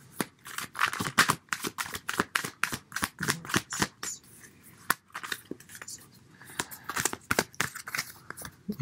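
Tarot cards are shuffled by hand in quick, repeated riffling bursts, crisp and close, continuing rhythmically for several seconds with no speech.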